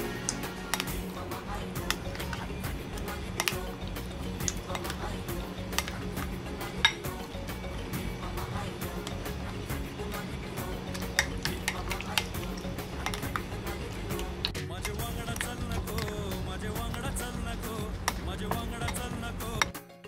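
Squid pieces tossed in a marinade inside a bowl, with steady clinks and scrapes of utensil against dish and wet squelching over a constant background hum, moderately loud and continuous for the whole stretch.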